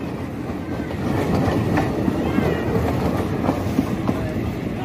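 A small train passing nearby, its rumble and rhythmic clickety-clack of wheels on rails holding loud and steady throughout, with faint voices in the background.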